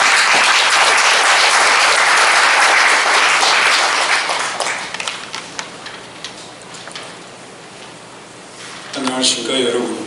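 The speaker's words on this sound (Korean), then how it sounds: "박수로 환영해 주십시오." An audience at a Korean human rights seminar applauds to welcome a speaker. Dense, loud clapping fills the first four seconds, then thins to a few scattered claps before a voice begins near the end.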